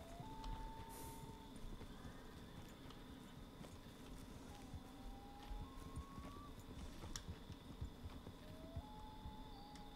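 Horse hooves clip-clop at a slow riding pace in the game Red Dead Redemption 2, soft rhythmic steps over a quiet ambient background with faint tonal beeps.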